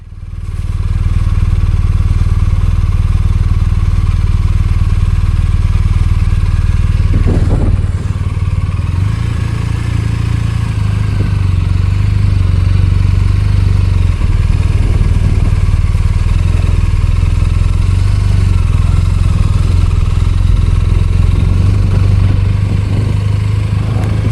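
Steady, loud motorcycle engine drone while riding the road to Dante's View in Death Valley National Park, with a constant low rumble and wind noise and no talking.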